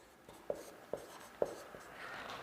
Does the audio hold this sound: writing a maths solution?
yes